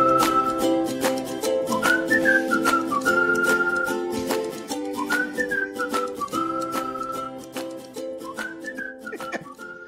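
A person whistles a clear, bright melody with repeating phrases for about ten seconds over a steady musical backing, close and prominent, with no talking.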